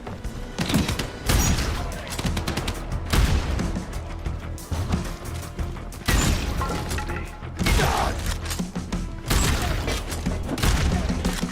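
Rapid bursts of video game gunfire and heavy booming explosions with mechanical clanking inside an abandoned mine, dense and continuous at close range throughout.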